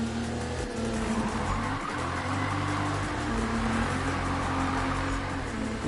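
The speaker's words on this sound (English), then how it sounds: "Drifting like a champ." Steady tire squeal from a car drifting in a PS4 racing game, a continuous loud screech over a droning engine that holds for the whole stretch without a break.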